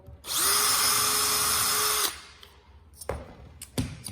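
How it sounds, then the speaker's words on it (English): A power drill whines steadily for about two seconds as it bites into aluminium, then stops, followed by a couple of sharp knocks nearby. "And then I'm going to drill,"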